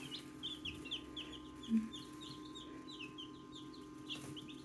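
Newly hatched chicks under heat lamps in a brooder keep up a steady chorus of high, close peeps, overlapping and continuous, over a low constant hum.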